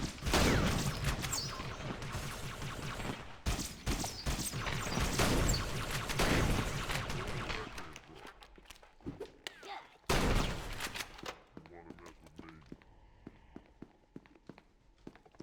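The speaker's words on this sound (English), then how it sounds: "What better weapon for pushing out of an entrenched position is there than a shotgun?" Shotgun fire in Halo: Combat Evolved during a push out of an entrenched position, with loud repeated blasts and other gunfire packed together at first, then thinning to scattered shots and footsteps later.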